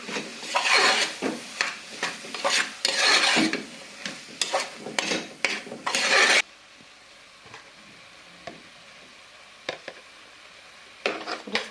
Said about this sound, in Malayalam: കുറച്ച് ബിരിയാണി മസാല പൊടിക്കാതെ ഇളക്കണം.